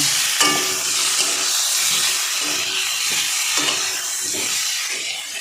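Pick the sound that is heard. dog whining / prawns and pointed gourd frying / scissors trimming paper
prawns and pointed gourd frying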